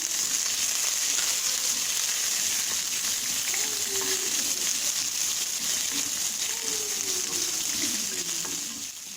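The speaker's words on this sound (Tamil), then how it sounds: "இந்த வெங்காயம், பச்சை மிளகாய், இஞ்சி 3 போட்டு வதக்கலாம்" Onion, green chilli and ginger sauté in a pan, a dense, steady frying hiss with faint spoon scrapes, loud and close throughout with no voices.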